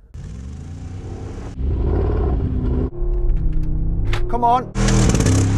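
Two SUVs, a G63 AMG and a Range Rover Sport SVR, strain against each other in a tug of war, engines rumbling and revving in loud rising bursts while people talk and shout over them.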